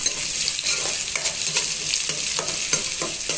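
Small onions sauté in a pan for a mutton coconut milk curry. A spoon scrapes and stirs in a regular rhythm over a continuous close sizzle, with no voices.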